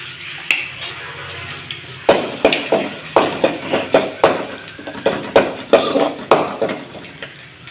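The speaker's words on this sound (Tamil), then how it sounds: "இப்போ தாளிப்பு வெங்காய வடகம் நம்ம சேர்த்து தாளிச்சிக்கலாம்." Onion vadagam crackling and spluttering as it fries in hot oil for tempering, a run of sharp popping bursts at close range that grows into a steady rhythm of crisp pops.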